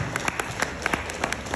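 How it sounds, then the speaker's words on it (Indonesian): A gala dinner audience claps and applauds steadily, a dense patter of hands with a few sharper claps standing out, no voices. "berikan tepuk tangan yang meriah"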